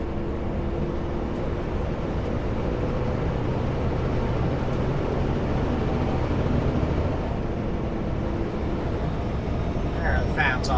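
A vehicle engine droning steadily as the driver shifts up a gear on a highway, with a constant broad rumble of engine and road noise throughout and a person talking over it.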